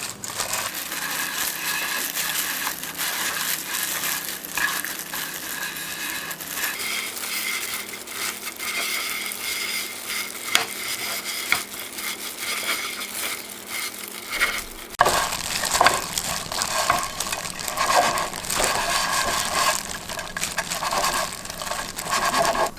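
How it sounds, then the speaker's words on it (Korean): Dried squid strips, stir-fried and then tossed by hand into a lukewarm sauce, give a steady close crunching, squishing rustle that runs unbroken and turns a little louder and brighter toward the end. "오징어채를 다 넣고 조물조물 묻혀주시면 돼요"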